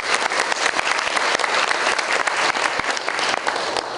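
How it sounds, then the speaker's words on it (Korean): A lecture-hall audience at a university debate competition in Korea gives a loud, dense round of applause, steady and unbroken throughout. "힘찬 박수 부탁드리겠습니다."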